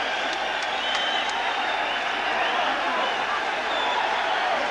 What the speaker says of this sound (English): taking the applause there from the lads